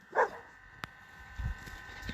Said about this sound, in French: Voilà, c'est bien mon toutou